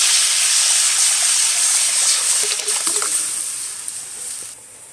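Lentils hitting a hot pan of tempered dry chilli, bay leaf, cumin and cumin paste for a Bengali veg dal, a loud close steamy hiss that gradually fades, with faint clinks near the end.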